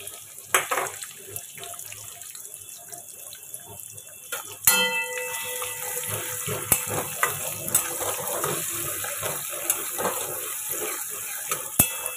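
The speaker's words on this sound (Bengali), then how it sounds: "এবার আমি পেঁয়াজ কুচিটা দিয়ে দেবো।" Chopped onion dropped into hot oil in a pan sets off a sudden loud hiss that settles into a steady, dense sizzle, with light clinks of stirring scattered throughout.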